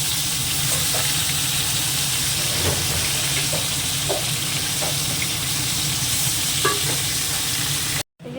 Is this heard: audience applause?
no